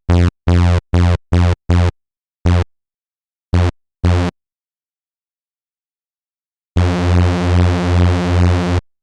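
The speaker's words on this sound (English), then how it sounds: "until you get that kind of beat frequency that is synonymous with the Reese bass" A detuned synthesizer Reese bass plays a series of short stabs, then one sustained note whose pulsing beat frequency makes it waver and throb, loud and alone without any voice.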